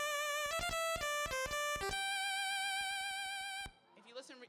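Famitracker chiptune melody played on the VRC6 Pulse 1 channel without an echo buffer, bright buzzy square-wave notes in a quick staccato run that settles into a long held tone, followed by a brief voice.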